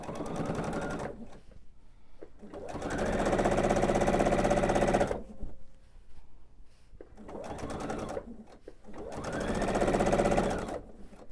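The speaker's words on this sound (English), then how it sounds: "I'm going to go back under my machine and finish sewing my binding in place." A sewing machine stitches quilt binding in place, running in two long, steady whirring bursts with a short start and pause in between and quiet gaps of silence around them.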